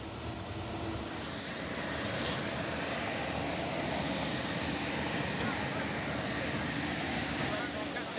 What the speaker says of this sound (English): Kimber's lift has arrived, piloted by Captain Clack.